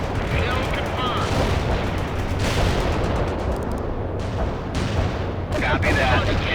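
Artillery barrage and gunfire in the video game World in Conflict, a loud continuous roar of explosions and rattling shots, with radio-style voices speaking over the battle.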